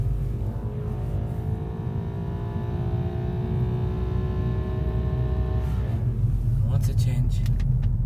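A 2012 VW Golf GTI rolling slowly in second gear carries a steady whining tone over the engine rumble, with the noise said to come from the rear; it fades as the gear changes, and a person speaks briefly near the end.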